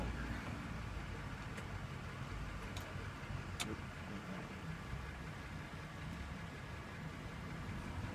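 A steady, low engine idle from an Acura MDX with the blower motor running, a continuous even drone with faint ticking on top and no talking.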